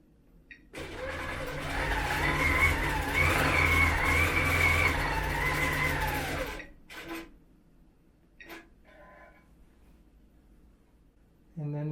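A Grace Company Unique 21X Elite quilting machine runs, giving a steady, close motor whir with a rising and falling whine for about six seconds before stopping, followed by a few light clicks and knocks.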